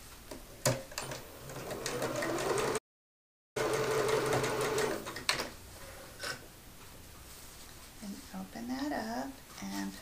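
A sewing machine runs in bursts stitching the side seam of a commuter tote bag from top to bottom, a steady rapid mechanical whir with a brief pause and a voice talking near the end.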